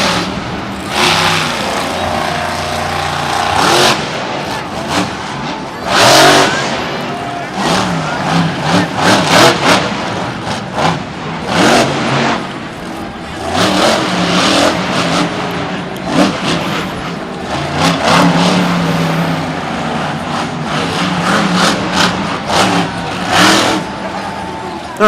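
The Stone Crusher monster truck roars through a Monster Jam run in Tampa, its engine revving loud and surging in repeated bursts across a noisy arena with a constant wash of background sound.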